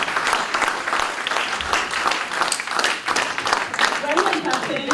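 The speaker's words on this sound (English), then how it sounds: "Give me a round of applause." An audience at an aviation careers conference applauds, with dense clapping that stays loud and continuous throughout, along with a few voices in the crowd.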